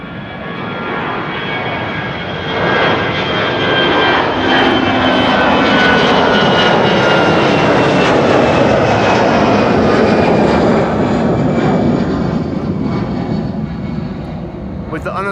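An airliner takes off from Amsterdam Schiphol's Kaagbaan runway 24, a loud sustained jet engine roar that builds and holds steady close by for the whole stretch, with some talk mixed in.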